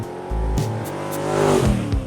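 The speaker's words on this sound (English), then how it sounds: "it probably wasn't the next corner that we revved it up and peeled out" A convertible with its top down revs hard and peels out on a dirt road, engine roaring in rising bursts over about two seconds with a loud, close, continuous growl and no talking.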